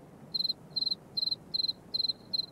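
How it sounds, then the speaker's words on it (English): A cricket rubs its wings together in quick pulsed trills, six short chirp bursts in an even rhythm over a quiet, low background hum. "He then rubs his wings together,"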